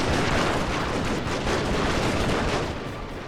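Rapid Gatling gun and rifle fire crackle throughout a Massive Battles video game engagement, a dense, continuous barrage of shots with no pauses, loud and steady, easing slightly at the end.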